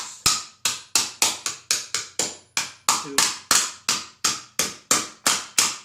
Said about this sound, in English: I have a slightly round face hammer